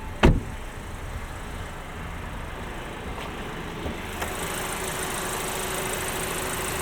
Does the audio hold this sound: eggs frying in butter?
no